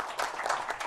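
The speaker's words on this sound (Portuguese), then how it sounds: "Um aplauso para o senhor aí" Brief burst of audience clapping at a conference, a moderate crowd applauding in a short steady patter at middle distance.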